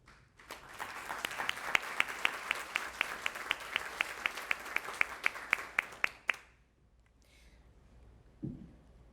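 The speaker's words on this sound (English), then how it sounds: "You all deserve a round of applause for your time," An audience at a school district partnership recognition event claps. Broad applause gives way to a crisp, rhythmic unison clap for several seconds, then cuts off into near silence broken by a faint thump.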